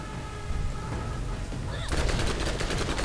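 Gunfire in the Borderlands shooter game: a dense, continuous roar of rapid shots and game effects, loud and close, intensifying into quick repeated bursts in the second half.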